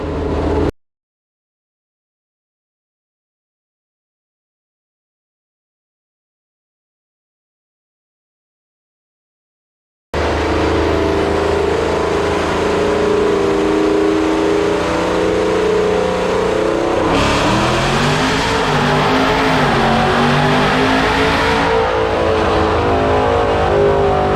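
A 5.7 Hemi Dodge Challenger R/T with a stock bottom end revs loudly on a dyno, starting after ten seconds of silence with a steady roar that climbs through the gears in rising and dropping pitch sweeps.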